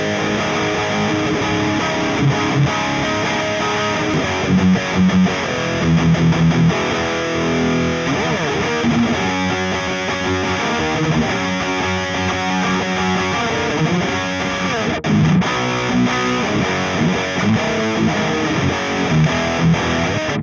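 Heavily distorted electric guitar chugging and ringing through an Orange Supercrush amp simulator (GrooveFX Carrot) with a distortion pedal, loud and steady, playing a continuous riff with no voices.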